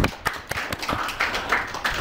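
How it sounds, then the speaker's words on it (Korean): A small audience claps during a coding lecture, a short burst of scattered, uneven hand claps with sharp individual taps, fairly close and moderately loud. "자, 그럼 박수 한번 칠까요?"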